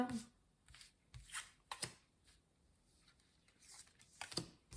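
Tarot cards are shuffled and drawn for a five-card spread: soft, close riffling and sliding flicks come in short irregular bursts at a low level.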